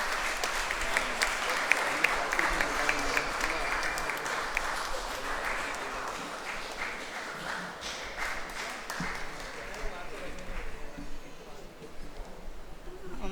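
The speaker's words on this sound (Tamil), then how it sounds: "நான் கைத்தட்டுங்க உங்களுக்கு" Sustained clapping from a church audience during a Tamil Christian special service, a thick, even wash of applause lasting throughout, with faint voices mixed beneath.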